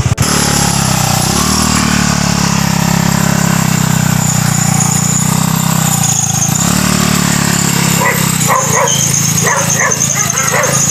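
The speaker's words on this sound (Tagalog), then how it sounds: "umahabol nga yung aso" A dog barks and yips repeatedly over a steady engine drone, the barking getting busier and closer toward the end.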